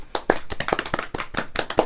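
Group applause after a Bible doctrine camp lesson, a dense burst of many hands clapping close by for about two seconds with no talking.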